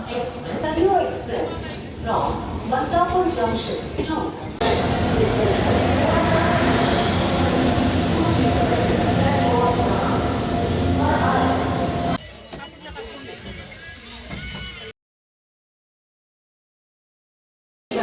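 A train rumbles loudly nearby at Prayag Junction station, a continuous heavy roar with rattling, then fades to quieter ambience before cutting to silence.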